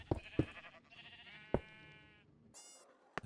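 Sheep in Minecraft bleat a couple of times in drawn-out wavering calls, fairly close, amid soft block-placing clicks, with a brief higher game sound near the end.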